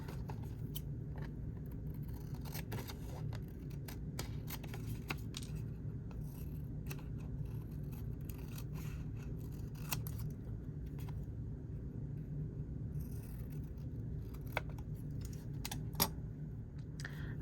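Scissors trimming paper for craft journal tags: a string of crisp close snips and small clicks against a quiet room hum.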